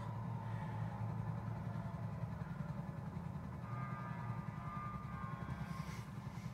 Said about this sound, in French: Donc là, on va prendre l'hélicoptère.